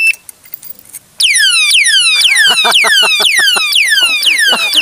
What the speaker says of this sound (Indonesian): Kita pasang aja langsung yang mode alarm ya